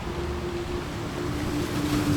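Ocean waves wash in a steady, continuous roar of surf with a soft, even hiss and no voices, for a seaside meditation.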